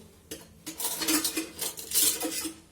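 A metal spoon and saucepan clatter down among stacked dishes in a home kitchen, a few close, sharp clinks and knocks in quick succession with no talking.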